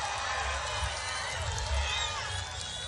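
A large outdoor crowd at a Donald Trump rally in Portsmouth, a steady wash of distant cheering and shouting that holds throughout without a break.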